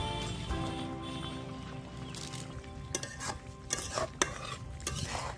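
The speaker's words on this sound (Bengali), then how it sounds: "ভেজে রাখা মাছগুলো দিয়ে খুন্তি দিয়ে নেড়ে চেড়ে নেব" A spatula scrapes and turns fried aar fish in a pan of spicy village-style curry, making irregular close knocks and scrapes over a soft sizzle, with faint music at the start.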